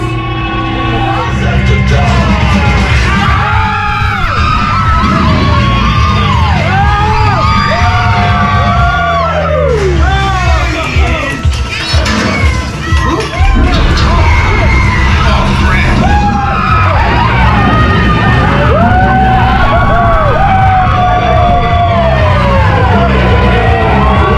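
Riders on an amusement park ride at Disneyland or Disney California Adventure yell, whoop and scream loudly and continuously, a dense crowd of voices rising and falling over rumbling ride noise.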